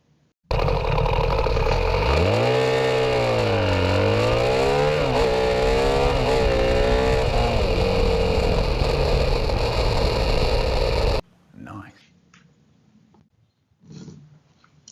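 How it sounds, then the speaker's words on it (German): A BMW R1300 GS motorcycle accelerates hard from 0 to 100 km/h, its engine roaring loud and close with rising pitch sweeps through several gear changes for about ten seconds before cutting off to quiet. "Also schauen wir uns endlich das beste 0 auf 100 Resultat an, das ich mit der R1300 GS zusammengebracht habe."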